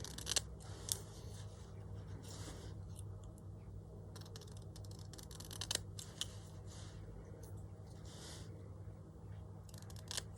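Scissors cutting scrap paper, a series of close, crisp snips and slicing strokes in irregular rhythm, with soft rustling of paper between cuts and no talking.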